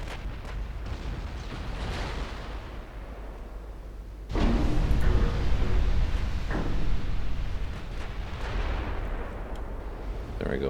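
Warship guns fire in a naval battle in the game Ultimate Admiral Dreadnoughts: deep, rumbling booms over a constant low battle roar, with one heavy blast partway through that lifts the din before it settles back.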